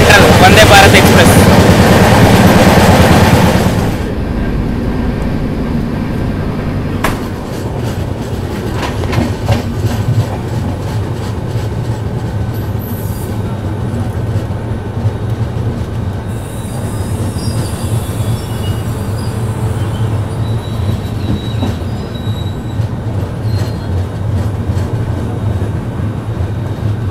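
An AC double decker superfast express train runs from Chennai to Bengaluru, a loud rumble of wheels on rail with rhythmic clacking and occasional squeals, heard close and continuous, with a brief louder gust of noise at the start.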